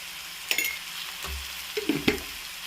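Chili powder drops into a hot frying pan with a soft, steady sizzle, while a spoon clinks and scrapes against the pan in a few sharp taps close by.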